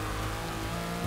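A car drifting in Forza 6, with a dense, loud roar of engine and tire noise that holds steady through a brief burst, without talk.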